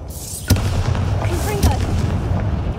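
Bombarda spell blowing up a bridge in Hogwarts Legacy: a heavy, close boom with a sharp onset, a second impact about a second later, and continuous low rumble and debris noise throughout.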